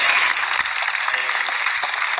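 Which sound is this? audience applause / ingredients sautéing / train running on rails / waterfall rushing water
audience applause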